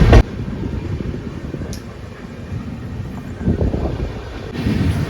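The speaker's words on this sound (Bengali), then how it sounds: "আমাদের ট্রেন এখন ছেড়ে বেরিয়ে যাচ্ছে রামপুরহাট জংশন রেলওয়ে স্টেশন।" Gour Express train pulling out of Rampurhat Junction station, a steady low rumble of wheels and carriage noise with wind buffeting the microphone, a brief sharp knock at the start and swelling rolling noise near the end.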